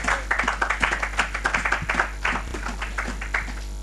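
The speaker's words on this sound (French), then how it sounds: "Applaudissez plus fort pour la gloire." A church congregation claps hard in a fast, regular rhythm, loud and close, with a steady low hum underneath throughout.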